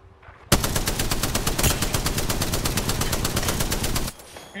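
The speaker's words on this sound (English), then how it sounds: "your gun shoots so fast" Rapid automatic gunfire in the Apex Legends video game, a loud, sustained burst of evenly spaced shots lasting about three and a half seconds with no talking over it.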